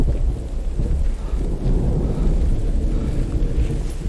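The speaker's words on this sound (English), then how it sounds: "the downside with the rain sounding beautiful but loud is it's difficult to hear anything else" Loud, dense video game rain pours continuously with a deep rolling rumble of thunder underneath, filling the whole clip.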